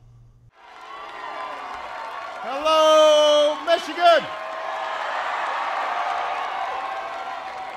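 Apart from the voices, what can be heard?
crowd cheering and applauding a speaker's arrival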